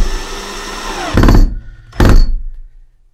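A power screwdriver driving a screw into wood, two short loud buzzing bursts with a brief pause between them, following a quieter whirring hum.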